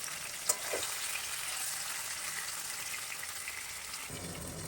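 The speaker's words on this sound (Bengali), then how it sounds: "পুরো পারেট করে লাল করে ভেজে নেব" Pointed gourd (potol) sprinkled with turmeric sizzles steadily in hot oil, a continuous broad crackling hiss with one brief clack near the start and a faint stir or scrape; the frying stays close and even throughout, with no talk.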